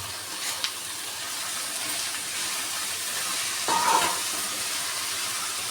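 Cluster beans with curry leaves fry in a pan, giving an even, moderate sizzle throughout, with a short scraping stir partway through.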